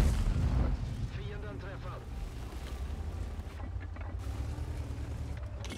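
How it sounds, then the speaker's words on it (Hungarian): Tank cannon shots in the video game World of Tanks: a heavy booming blast at the start, followed by rumbling low impacts and fainter shots under game noise and a talking voice. "ezek a nem célzott lövések eltalálják"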